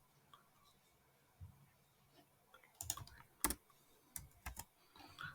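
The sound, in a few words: typing on a computer keyboard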